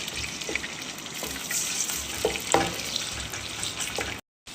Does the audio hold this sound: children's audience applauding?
no